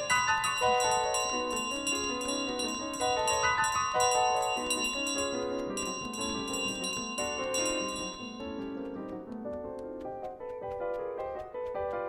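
A bell in Untitled Goose Game rings out in a long run of rapid, bright metallic strikes. It is loud and continuous, with the tones fading toward the end.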